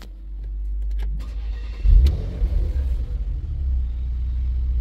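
A Porsche Macan GTS with an engine and parking-brake fault cranks and fires up about two seconds in, its low rumble swelling near and loud, then settling into a steady idle.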